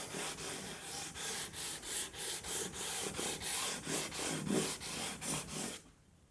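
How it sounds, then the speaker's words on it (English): A Les Paul guitar neck fingerboard being lightly sanded by hand, with steady rhythmic back-and-forth rasping strokes, about a dozen evenly spaced passes, close and moderately loud, fading out at the end. "we're just going to very lightly sand all the way down and all the way back."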